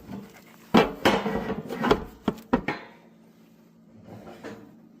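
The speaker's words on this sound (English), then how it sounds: "First loaf falls right out of the pan" A homemade bread loaf drops out of its baking pan, giving a few close, dull thuds and knocks in quick succession, followed by quieter handling sounds.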